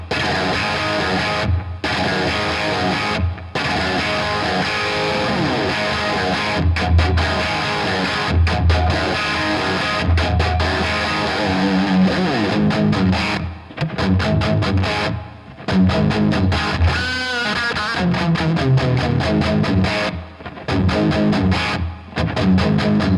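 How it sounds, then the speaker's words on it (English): Heavily distorted electric guitar played through a Super Distortion pickup in an Ibanez Destroyer: loud, sustained riffing with choppy palm-muted bursts and brief gaps, alone with no voices. "Listen to the Super Distortion again in the Ibanez Destroyer."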